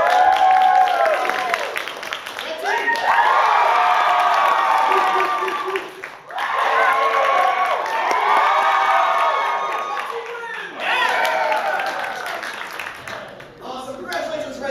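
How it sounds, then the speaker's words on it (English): A large crowd at an improv comedy show cheers and claps loudly in sustained waves, with whoops and children's shouts, dipping briefly between bursts. "I want to hear your applause"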